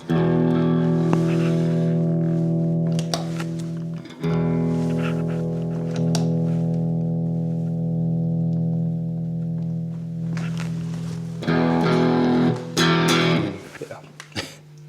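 Electric guitar played through a 5E3-style tube amp with reverb, picked up by a lapel mic, ringing sustained chords and notes with a slightly overdriven, reverberant tone, loud and continuous with short breaks between phrases.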